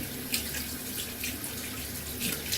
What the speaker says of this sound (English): I'm gonna go ahead and rinse my brush out while this is kind of just permeating on the skin